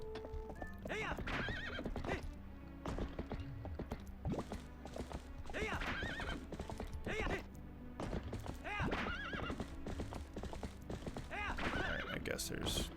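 A horse in The Legend of Zelda: Twilight Princess HD whinnies repeatedly over a steady clip-clop of hooves, with thuds and music-like tones in the background.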